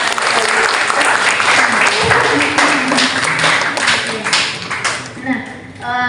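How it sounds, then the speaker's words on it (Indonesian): An audience of students applauds at an education outreach event, a dense, steady wash of many hands clapping at once, loud and close, with voices mixed in toward the end. "tepuk tangan dulu buat"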